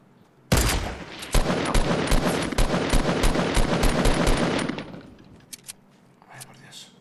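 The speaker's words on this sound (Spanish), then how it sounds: "Ya empiezan los disparos." Rapid bursts of automatic gunfire in Fortnite: Battle Royale rattle loudly for several seconds, then stop, leaving a few scattered faint clicks and pops.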